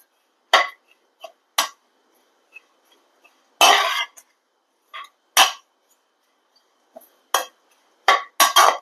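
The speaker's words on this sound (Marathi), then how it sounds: "खोबरं भाजून घ्यायचं" A spatula scrapes a hot kadhai in short, irregular strokes while coconut dry-roasts, each scrape a brief, sharp metallic rasp separated by quiet pauses, with a few faint clinks in between.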